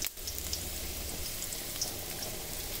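Sliced garlic sizzling in hot oil in a wok, a steady close crackle and hiss with scattered pops throughout, no voices.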